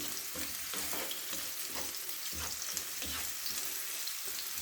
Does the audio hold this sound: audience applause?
no